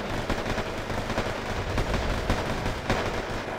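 Bombing run in the Wargame AirLand Battle war game, a dense, continuous barrage of booming blasts and rattling gunfire with repeated heavier thumps, loud and unbroken from start to finish.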